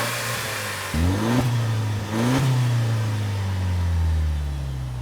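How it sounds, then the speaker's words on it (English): A Toyota Land Cruiser hybrid engine strains under acceleration, a close steady drone that climbs in pitch through two surging revs and then holds a loud, laboured hum, with no voices. "This thing just does not sound good, and unfortunately it sounds like it's working really hard even under basic acceleration"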